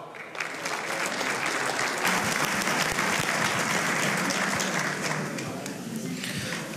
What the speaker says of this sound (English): Ladies and gentlemen, big round of applause, Edward Hamad.